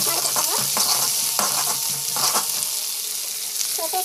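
Onions sautéing in a hot pan, a steady close sizzle with a few scraping stirs of a spatula, with no voices.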